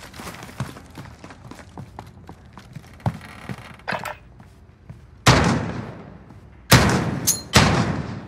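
Shotgun blasts in a video game firefight: after a stretch of scattered thuds and footsteps come several loud, sharp shots, one alone and then a quick cluster of three near the end.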